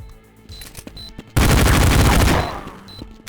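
Glock pistol fire in Counter-Strike 1.6 running in a web browser: a sudden loud, dense burst of rapid shots lasting about a second, preceded and followed by quieter game clicks and pings.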